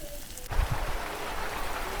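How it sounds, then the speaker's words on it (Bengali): Steady rain falls outside while fish curry is being cooked, a dense even hiss that starts abruptly after a few soft low thumps and continues alone at moderate level with no talking. "এই দেখুন কত সুন্দর বৃষ্টি পড়তিছে"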